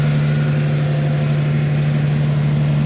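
A Mercury outboard motor runs steadily at a constant idle, a loud, even drone with a strong low hum and no talk over it.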